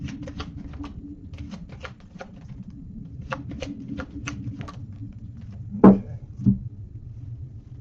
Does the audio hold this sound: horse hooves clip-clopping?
no